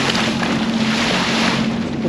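Strong wind buffets the microphone with a steady loud roar, over the rushing of choppy water close by during a ride out near the ships in Hamilton.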